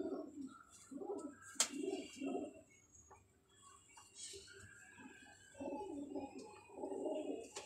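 Kamagar pigeons cooing close by, several soft throaty coo phrases in bursts with short pauses between them, alongside faint chirps and a sharp click.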